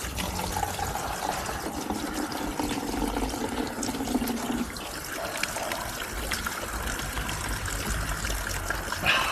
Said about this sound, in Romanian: Să fie pentru izvorul de apă.